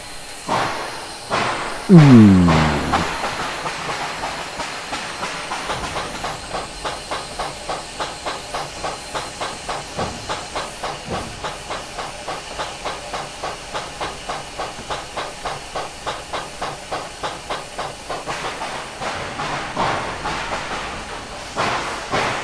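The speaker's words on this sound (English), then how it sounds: "we'll go ahead and pull this locomotive up here so we can" A steam locomotive, a Northern Pacific S-10 4-6-0 in a train simulator game, hisses and chuffs as it pulls forward, a brief whistle-like rise near the start, then a steady rhythmic exhaust beat continuing throughout at a close, even level.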